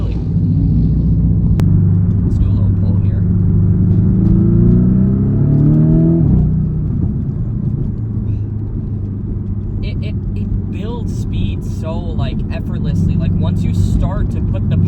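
A Porsche 982 sports car engine climbs steadily in pitch under hard acceleration on a road, loud and close from the cabin, then settles into a lower drone.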